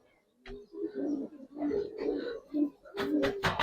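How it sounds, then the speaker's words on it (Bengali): Several Giribaz pigeons, including a male, coo softly in low, throaty bursts close by, with a rustle of flapping near the end. "তিনটা কবুতর একসাথে দিলাম, এটা একটা নর কবুতর।"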